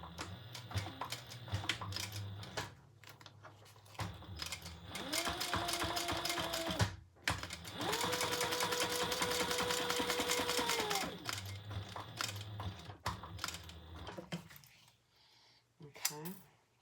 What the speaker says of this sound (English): I am going to back stitch.